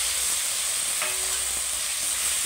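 Potato and eggplant fry in hot spiced oil for a bhola fish curry, giving a loud, constant sizzle and hiss with faint stirring scrapes, close up and with no voices.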